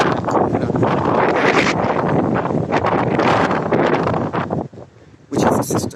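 Strong wind gusting through cypress trees planted as a windbreak on open land, a loud continuous roar with rustling and buffeting against the microphone that briefly dips near the end, then surges back.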